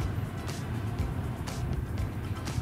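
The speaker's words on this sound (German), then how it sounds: "Und man hört nur das Rauschen des Windes." Steady rushing wind noise and a low hum inside an electric race car accelerating at Hockenheim, a constant moderate roar with faint intermittent hissy swells.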